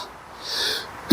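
A man working on a pressure washer carburetor lets out a single sharp sneeze at the very end, after a short breathy intake, close to the microphone.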